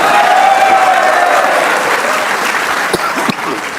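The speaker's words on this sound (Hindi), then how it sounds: "एक बार इस परफॉर्मेंस पे शाहीन के लिए तालियां होनी चाहिए" Loud crowd applause for Shaheen's performance after an India versus Pakistan cricket match, dense continuous clapping from many people that thins slightly toward the end, with a few sharp individual claps standing out.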